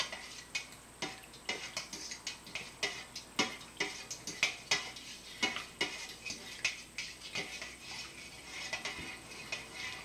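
Wig hair dye mixture in African Violet shade being stirred, giving quiet, rapid clicking and scraping taps in an uneven rhythm, faint and close, with no talking.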